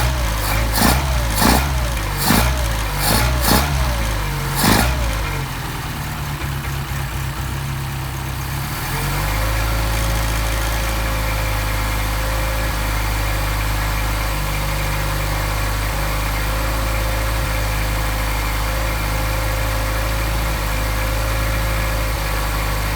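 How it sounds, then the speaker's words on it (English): A Mercedes 190SL engine with Solex carburetors warms up, with several sharp revs and clicks at the start that settle into a steady, loud idle hum that continues to the end. "can you hear how better they're running once they start to get warmed"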